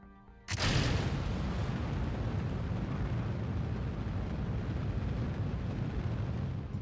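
A very large rocket lifting off in the Kerbal Space Program video game: a sudden ignition burst followed by a sustained, dense low roar that holds steadily to the end, with no talk.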